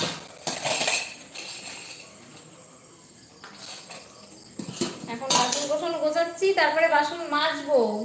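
Dishes and utensils clink and clatter in a home kitchen as they are washed, the knocks coming in uneven bursts, with a voice talking over much of the second half.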